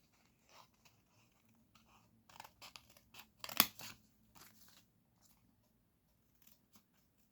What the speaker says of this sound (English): And then we can cut with the scissors.